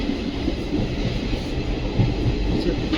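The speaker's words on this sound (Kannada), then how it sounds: "ಟೋಟಲ್ 4 ಕೋಚಸ್ ಇರೋ ಡೆಮೋ ಟ್ರೈನ್ ಇದು." Steady rumble and rattle inside a four-coach DEMU passenger train running from Dandeli to Alnavar, loud and continuous with no voices.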